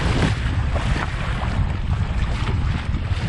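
An Old Town Topwater PDL pedal kayak moving through choppy water on a windy day, with steady broadband wind buffeting the microphone over continuous water slosh and hull noise throughout, no talking.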